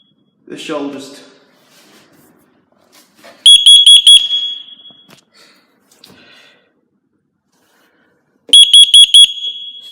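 FireAngel Wi-Safe 2 fire and CO alarm giving two short bursts of rapid shrill beeps several seconds apart, close and loud, after brief talking and some breathing sounds in a quiet room.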